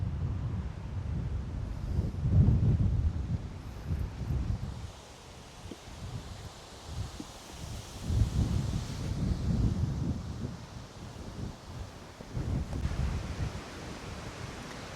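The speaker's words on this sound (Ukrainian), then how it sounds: "Такий сильний вітер" Strong, gusting wind roars and buffets the microphone outdoors in a farm field in the Netherlands, rising and falling in surges over roughly fifteen seconds.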